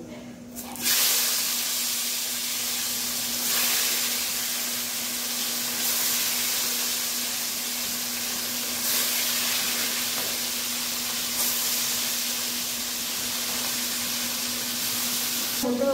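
Fish frying in hot oil with a little turmeric, a continuous loud sizzle and hiss that carries steadily from start to finish with no talking.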